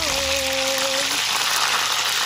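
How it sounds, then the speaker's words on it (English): Chicken wings fry in a pan with a steady sizzle filling the clip, loud and close, with a brief tonal whine fading out in the first second. "Oh, can you hear the sizzling guys?"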